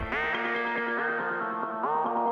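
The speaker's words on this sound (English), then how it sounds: "and spring reverb." A synthesizer chord sustained through a springy, metallic reverb, with a fresh attack near the end; loud and continuous for a couple of seconds.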